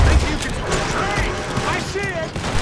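Gunfire rattles through a chaotic shootout in Red Dead Redemption 2, rapid overlapping shots under excited voices and other loud game noise.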